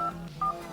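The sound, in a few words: phone keypad dialing tones, DTMF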